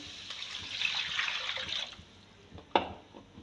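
Water, about 1.5 litres, pours steadily into a pot of fried dal masala, a bright splashing rush that gradually fades, followed by a few soft knocks and a sharper clunk near the end, with no talk.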